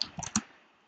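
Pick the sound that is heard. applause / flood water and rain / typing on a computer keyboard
typing on a computer keyboard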